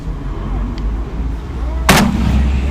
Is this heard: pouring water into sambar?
no